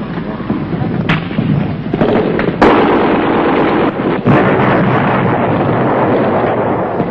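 Sustained firefight between an American infantry platoon and Viet Cong in 1966 Vietnam, with dense rolling rifle and automatic gunfire and sharp loud cracks over a constant roar.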